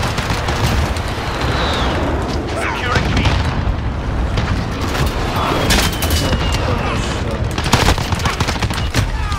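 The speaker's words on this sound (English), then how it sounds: "This is an airstrike." An airstrike hits in a Call of Duty style shooter on the Shipment map: heavy rumbling explosions and rapid gunfire roll on loud and continuous for the whole stretch.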